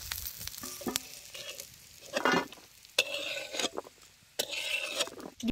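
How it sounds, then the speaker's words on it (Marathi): Spices such as sesame seeds and cumin being roasted in oil in a pan over a wood-fire stove, with intermittent bursts of sizzling and stirring scrapes between quieter moments. "मग असा तेलात चांगला भाजून घ्यायचा"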